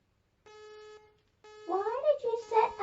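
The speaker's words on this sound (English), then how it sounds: "It's my alarm clock." An alarm clock sounds a steady electronic beep tone, two pulses about half a second long each, before a voice talks over the second one.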